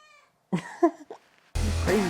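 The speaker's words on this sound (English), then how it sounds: "he's just meowing nonstop" A cat meows indoors in a few short, close calls with brief pauses between them, followed by a louder burst of noise at the end; no clear talking.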